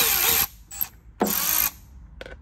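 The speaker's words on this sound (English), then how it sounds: "go ahead and remove all the screws" Power tool removing screws from a Dodge Challenger OEM inlet: two close bursts of whirring with short ratcheting clicks between them, no voices.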